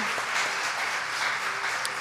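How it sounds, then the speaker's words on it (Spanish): A church audience gives a strong round of applause for invited women guests, steady dense clapping throughout with no voices. "un fuerte aplauso de nuestro público para nuestras invitadas hoy"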